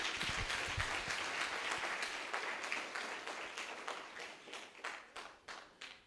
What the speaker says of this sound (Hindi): ताली नहीं बजाओगे आप?